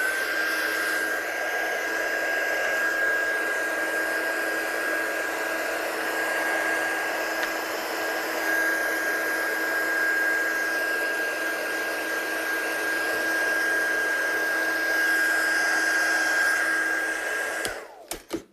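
A hair dryer blows steadily on a painted image during a craft session, a loud continuous whine and rush that holds for most of the clip before cutting off abruptly, followed by a couple of small knocks.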